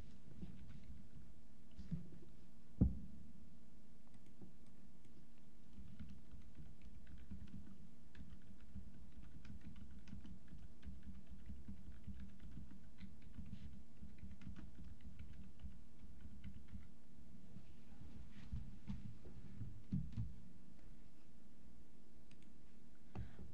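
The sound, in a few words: typing on a computer keyboard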